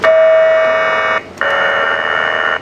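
A circuit-bent Casio keyboard with sustain on gives a harsh, buzzy electronic tone that holds steady and loud, cuts out briefly, then returns as a gritty sustained drone.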